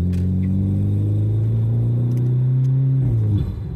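An Alfa Romeo MiTo Quadrifoglio Verde pulls hard under full throttle in dynamic mode, its engine note rumbling loudly and climbing steadily in pitch for about three seconds before the revs drop sharply, heard from inside the car.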